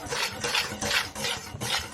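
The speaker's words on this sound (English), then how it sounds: "we're just going to go ahead and whisk this together" Flour, salt and baking soda are whisked together in a bowl for banana bread. Five quick scratchy strokes follow one another in an even rhythm, close and alone.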